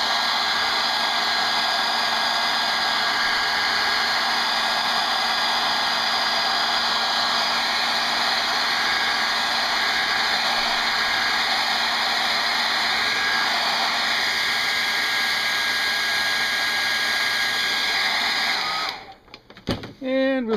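A hair dryer drying a watercolor painting of waves blows as a steady, loud whir for about nineteen seconds, then cuts off abruptly.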